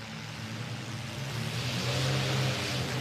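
Several front- and rear-wheel-drive race cars at the start of a Cornhusker Chaos event, engines droning and revving together in a steady, rising roar heard from a distance, with no talk.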